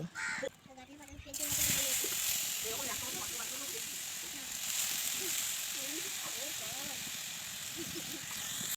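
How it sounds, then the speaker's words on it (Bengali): Freshly grated coconut drops into a hot wok and sizzles with a steady, moderate hiss after an initial clatter, while a voice talks over it throughout. "আমার এখানে কড়াই গরম হয়ে গেছে, এবার আমার কুড়ানো নারকেলগুলো কড়াইয়ে দেব।"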